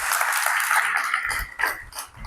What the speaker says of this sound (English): Let's give him a round of applause for volunteering.